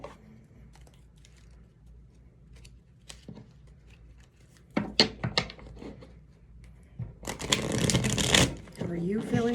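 Love Oracle tarot-style cards shuffled by hand, a quiet scattered riffle early on, then a louder burst of flicking and a dense, sustained rapid shuffle near the end.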